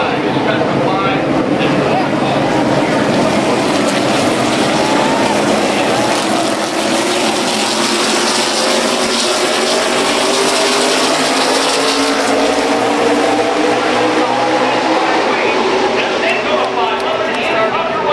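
NASCAR Sprint Cup race cars drafting around Daytona, a loud continuous roar of engines and rushing wind under an excited commentator's voice.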